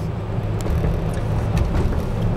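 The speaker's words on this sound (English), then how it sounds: "My gas sucking truck" A gas-guzzling pickup truck cruises down the road, giving a steady low engine and tire rumble with broadband road noise and no clear gear changes.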